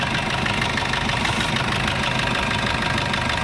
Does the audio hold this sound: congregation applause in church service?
no